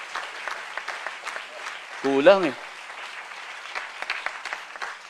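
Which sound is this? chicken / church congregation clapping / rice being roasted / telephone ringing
church congregation clapping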